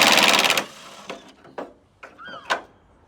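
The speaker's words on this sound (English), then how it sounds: "then our impact driver to see if we can get those bolts out" An impact driver hammers briefly at rusty rear bumper bolts on a Mercedes R107, a short rattling burst close by, followed by several separate metallic clanks and knocks as parts are handled.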